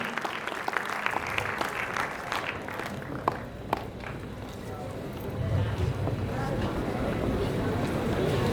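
An audience claps at a school felicitation ceremony honouring top students. The applause forms a steady, moderately loud wash that swells slightly toward the end, with a few faint voices mixed in.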